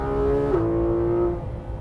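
Porsche 991.2 GT3RS on the Nürburgring Nordschleife, its engine note holding a steady high pitch from inside the car, shifting briefly midway, then fading into lower road noise.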